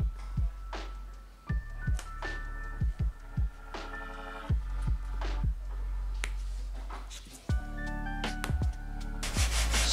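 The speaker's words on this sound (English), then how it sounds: "Sand the leading and trailing edges like this to shape slope profile for receiving the top skin of the wing." Sanding the leading and trailing edges of a P-47 Thunderbolt Razorback RC plane wing, with repeated loud rubbing strokes and thumps in an uneven rhythm over a constant low hum, close up and without speech.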